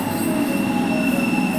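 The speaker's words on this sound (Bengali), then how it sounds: "এটা ট্রেনটা যাচ্ছে কোলাঘাটের দিকে।" A train rolls through a station on the line toward Kolaghat on a hot afternoon, a loud, steady rumble with high wheel squeal held throughout, no voices.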